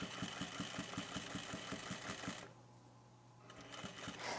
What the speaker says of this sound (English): I'm going to top stitch that at 1/8 of an inch